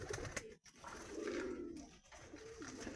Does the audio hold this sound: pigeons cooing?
yes